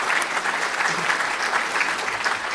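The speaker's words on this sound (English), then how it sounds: "Round of applause." An audience at a civic event in Chicago breaks into steady, dense applause, many hands clapping together at a constant level with no voices heard.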